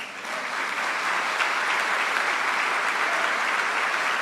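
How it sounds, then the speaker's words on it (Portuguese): A live audience at a business and entrepreneurs talk show breaks into dense, sustained applause, with many hands clapping steadily and evenly throughout and no voices above it. "Você deveria ter dado uma salva de palmas por essa."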